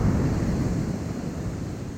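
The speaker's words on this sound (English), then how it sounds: "casually waiting for a wave to come up, clash, touch my feet, be the wave it's supposed to be" Steady roar of Pacific Ocean surf washing up a beach, broad low rumble filling the whole clip with wind buffeting the microphone, no voices.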